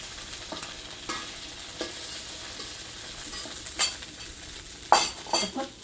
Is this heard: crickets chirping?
no